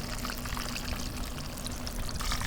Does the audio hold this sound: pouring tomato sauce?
yes